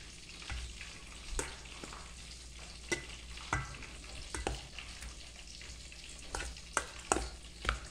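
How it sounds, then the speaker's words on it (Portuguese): A spoon stirs tartar sauce with lemon juice, oregano, carrot, cucumber and onion in a bowl, making soft irregular scrapes and wet clicks at close range, with no voices. "Vou misturar bem para o suco do limão e o orégano misturar bem nessa cenoura, nesse pepino e nessa cebola aqui"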